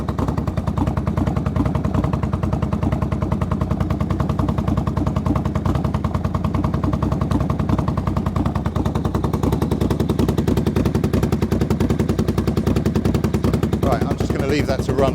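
The engine of an odd motorcycle project bike idles steadily with a fast, even, machine-gun-like exhaust pulse, close and loud and unbroken, with a voice speaking briefly over it.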